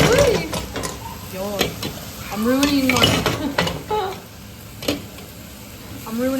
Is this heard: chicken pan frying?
yes